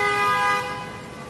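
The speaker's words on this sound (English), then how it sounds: "guy just honked at us" A car horn blasts on Madison Avenue in New York City, one sustained loud honk near the listener that cuts off and leaves street traffic noise behind.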